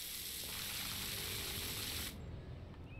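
Pressure washer spraying water onto stone in the video game PowerWash Simulator, a steady loud hissing rush that cuts off abruptly near the end, leaving quieter background sound.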